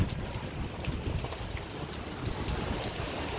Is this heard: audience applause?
no